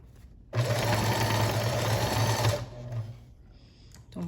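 A sewing machine runs in one fast, even burst of about two seconds while stitching fabric with elastic, loud and close, then stops and leaves faint handling sounds.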